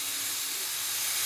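A pot of chickpeas cooking on the stove gives off a constant loud, bright steam hiss with no break, close by and without talk.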